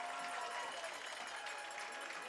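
Partisan Panther home crowd at a high school football game between Mount Pleasant and Washington makes noise late in the game, a steady, roaring wash of cheering and clapping with talk over it.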